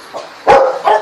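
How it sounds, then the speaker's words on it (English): A dog gives two or three sharp barks close by, the middle one loudest, with short gaps between, no talk over them. "my guardian doggy is here."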